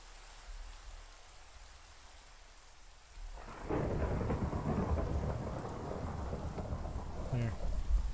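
Minecraft thunderstorm: a steady hiss of rain gives way to a heavy, close rumble of thunder that rolls on over the downpour, with no talking.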